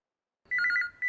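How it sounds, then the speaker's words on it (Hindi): A telephone rings after a brief silence, its electronic bell trilling in one rapid burst and then starting again, close and clear with no voices. "फोन उठाओ जल्दी से।"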